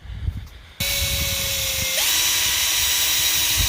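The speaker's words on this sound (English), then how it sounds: "Just drilling the holes into the top of these so I can screw them all in." An electric power drill bores holes into the tops of thick timber planks during a backyard hot tub build, whining steadily at close range and shifting pitch upward as the bit bites, with no talking.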